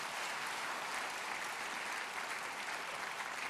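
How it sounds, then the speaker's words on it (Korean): A church congregation applauds a child at a Sunday evening Christmas worship service. The clapping is steady and dense, a continuous wash of many hands heard somewhat faintly from a distance. "조향기 어린이 박수해 주세요"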